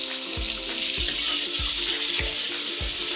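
Chicken pieces fry in a hot pan for a white chicken qorma, a steady close sizzle broken by regular scraping thuds of stirring, about five strokes at an even pace, with no voices.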